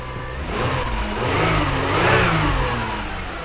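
A Toyota V6 engine turns over and catches after a timing belt job, then revs up in a rising surge before settling, loud and near with a steady mechanical whir.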